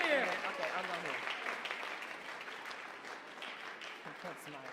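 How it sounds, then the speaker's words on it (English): Applause for Tanakh scholars at a Chidon Ha'Tanach national finals closing ceremony: a crowd claps steadily, loudest at the start and gradually thinning, with a voice speaking over it early on. "One more round of applause for these Tanakh scholars"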